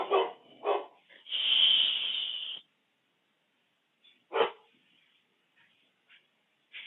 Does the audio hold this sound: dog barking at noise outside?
yes